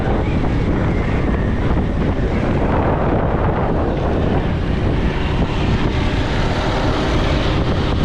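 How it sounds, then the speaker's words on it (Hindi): Strong hot wind roars outdoors in Karachi, buffeting the microphone with continuous loud rumbling gusts and no voices heard. "हवा तेज़ है लेकिन लू चल रही है।"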